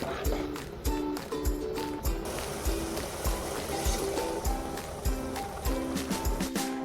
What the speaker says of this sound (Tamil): இது கூட கொஞ்சமாக தண்ணி சேர்த்து நான் மிக்ஸ் பண்ணி ஊற்றிக்கிறேன்